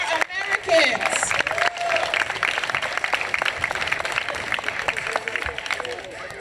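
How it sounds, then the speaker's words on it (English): Crowd at an outdoor Juneteenth celebration claps and cheers in a loose, uneven burst, with scattered voices and chatter mixed through the applause. "I need an applause for that."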